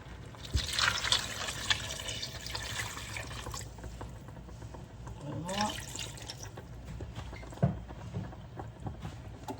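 Water pours and trickles into a pot in a few bursts, with faint clinks and soft background noise; no one speaks.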